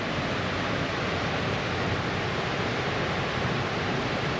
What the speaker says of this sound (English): There's so much water running through there now.